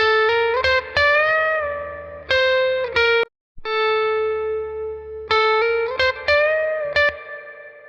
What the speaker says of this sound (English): We have this little spring reverb going crazy in here